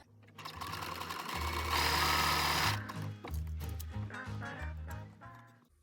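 Close, steady whirring of a sewing machine stitching elastic onto knicker fabric, running continuously with slight changes in speed.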